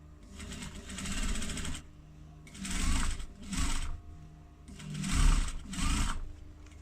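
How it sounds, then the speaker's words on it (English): A sewing machine top stitches along the edge of a faux leather clutch wallet piece, running in three or four close, steady bursts separated by short pauses, with no talking. "Same on this piece, just top stitch along the top."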